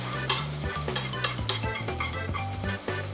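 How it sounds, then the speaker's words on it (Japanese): Frying pan shaken back and forth while omelette eggs are stirred round with a utensil, giving repeated sharp metallic clinks and scrapes over a soft sizzle, close up and without speech. "左手のフライパンは前後に揺すって、右手の足はぐるぐる全体をかき混ぜます。"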